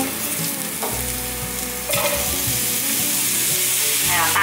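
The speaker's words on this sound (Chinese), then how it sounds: "放入红萝卜， 大约略炒一下" Carrots being stir-fried in a hot pan, a continuous loud sizzle that swells as the pieces land, with spatula scrapes and tosses close by and no talking.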